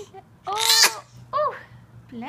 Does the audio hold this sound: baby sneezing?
yes